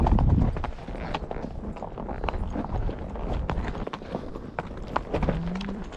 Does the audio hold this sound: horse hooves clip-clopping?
yes